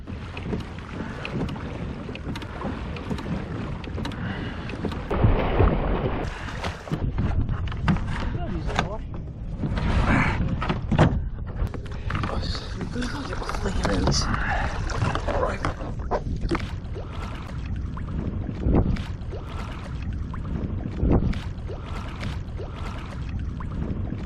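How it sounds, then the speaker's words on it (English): A kayak is paddled at sea while towing a second kayak, its paddle strokes splashing in steady rhythm against heavy wind noise, with someone talking over it throughout. "As you can see, I'm towing a kayak in at the moment."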